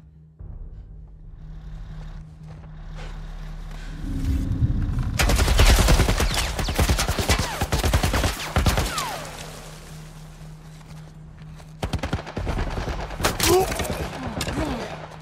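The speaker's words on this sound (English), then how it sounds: "What the fuck are they shooting at us with? Some kind of military turret." Military turret gunfire in The Last of Us Part 1 video game: after a low engine-like hum, dense bursts of rapid automatic fire erupt loudly for several seconds, then resume in shorter volleys with impacts.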